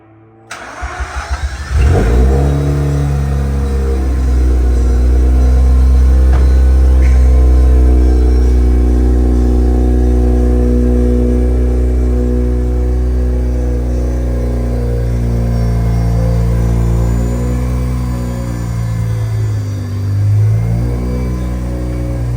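A Mazda RX8 with a 13B rotary engine cranks and fires up, then settles into a loud, steady idle with slow rises and dips in revs, heard close up and alone.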